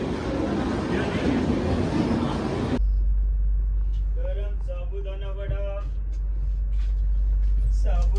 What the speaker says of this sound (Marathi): आता मांडवी एक्सप्रेस आपल्या आली बरोबर डॉट टायमात